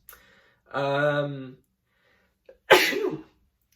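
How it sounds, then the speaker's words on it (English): A single loud sneeze: a drawn-out, tonal intake that builds for about a second, a short pause, then a sharp explosive burst. "I'm going to sneeze, guys"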